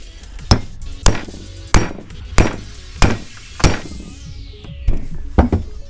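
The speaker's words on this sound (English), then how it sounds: "take a hammer, just lightly tap it out, the piston" Sharp metallic hammer taps strike a Honda Del Sol front brake caliper to work the piston out, about nine evenly spaced, fairly loud knocks close by with no talking.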